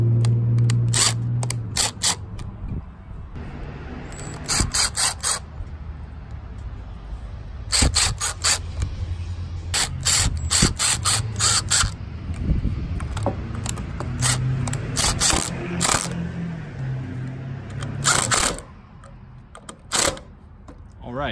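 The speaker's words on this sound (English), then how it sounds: "I'm using the impact driver here just in case I run into resistance." An impact driver sets star-head screws through a bracket into a wooden post during an outdoor build, giving repeated loud rattling bursts with pauses between them while someone talks over the work.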